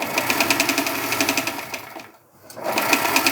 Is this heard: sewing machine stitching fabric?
yes